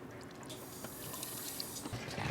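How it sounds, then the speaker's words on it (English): Water from a hose running into a boat's onboard tanks, a quiet continuous hissing rush with faint drips and gurgles, steady throughout with no voices. "can you turn off the water?"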